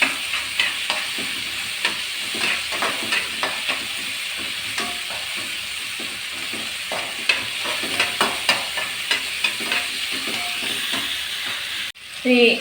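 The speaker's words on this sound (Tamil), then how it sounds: "green chilli, நல்லா கொஞ்சம் நேரம் வதக்கி விடலாம்." Green chillies sautéing in a pan for murungai keerai sambar rice, a steady sizzle broken by regular spatula scrapes and taps against the pan.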